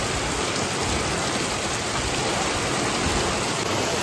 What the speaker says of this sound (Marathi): गावी आल्यापासून पाऊस जोरातच पडतोय.